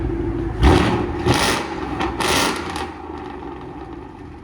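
A 2015 Ford Mustang GT with a 5.0L V8 and Valvetronic Designs exhaust revving, with several loud blips over a rumbling low idle, the last rev fading back to a steady idle.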